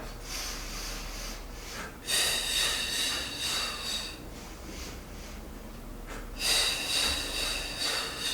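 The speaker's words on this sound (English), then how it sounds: "exhaling for a 5 count" A long, audible exhale through the nose and mouth during a level 2 Pi-Yo flow exercise, steady and breathy, with a fresh breath surge at about two seconds and another near six seconds; no talking.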